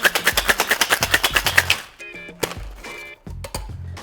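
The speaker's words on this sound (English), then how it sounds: "And let's shake it up." Ice cubes knock rapidly and rhythmically inside a cocktail shaker mixing a rum drink, about a dozen sharp, loud rattles, then a few scattered clinks and knocks as the shaking stops.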